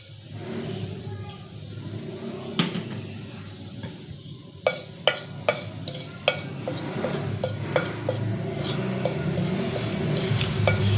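Cumin seeds hit oil over a very low flame, making a gentle hiss. A run of sharp crackles and pops follows as the seeds heat, fairly close and moderately loud.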